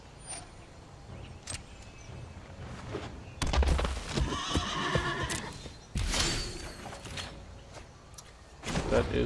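A horse whinnies in the card game MTG Arena, a loud, drawn-out neigh with a second cry following, set against quiet game sounds and a final burst near the end.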